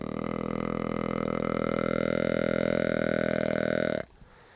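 A hand-held deer call imitates the long breeding grunt of a mature deer: one sustained, deep, buzzing tone held steadily for about four seconds before cutting off abruptly, close and loud with no talk.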